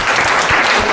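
Audience applause at a lucky draw event for the first prize, a dense, steady crowd clapping that stays loud and continuous for the whole moment, with no voices over it.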